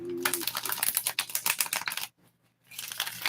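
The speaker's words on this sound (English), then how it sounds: "Shuffle the deck one more time." A tarot card deck is shuffled in quick, close crackling riffles, a burst of rapid clicks that stops briefly and then starts again.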